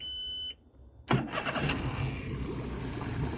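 A Mercury outboard engine on a Boston Whaler cranks and catches, then settles into a steady running idle close by. A brief high electronic tone is heard just before it starts.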